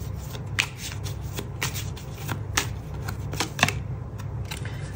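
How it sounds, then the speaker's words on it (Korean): Tarot energy cards being drawn and shuffled by hand give a steady run of soft papery riffles and flicks, with a few sharper snaps standing out, close and fairly quiet. "세 번째 에너지 카드를 뽑아볼게요"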